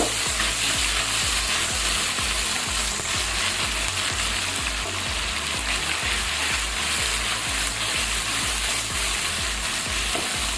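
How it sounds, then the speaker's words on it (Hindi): Ginger, garlic and green chili paste frying in a pan, producing a loud dense continuous sizzle close by, steady from start to finish, with no voices. "जिंजर गार्लिक और ग्रीन चिलीज का जो 3G पेस्ट है, तो खूब अच्छी तरह से भूनें"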